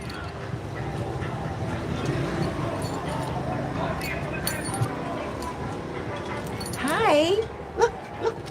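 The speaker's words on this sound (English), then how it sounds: "She's crying. Let me just show you Noche, my dog" A pet dog whimpers and cries on a liveaboard boat in the Dominican Republic, rising high-pitched whines near the end following a stretch of quieter ambient noise with talking.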